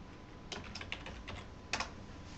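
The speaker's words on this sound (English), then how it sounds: "Then type in the name of the subgroup." Soft keystrokes on a computer keyboard, a few irregular clicks and a short burst of typing, quiet and close with no talk.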